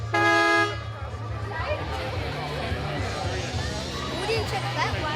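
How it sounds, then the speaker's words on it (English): A car horn on a classic car at a show gives one loud, brassy honk up close, followed by crowd chatter and people talking nearby. "Honk the horn!"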